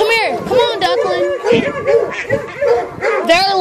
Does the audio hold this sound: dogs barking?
yes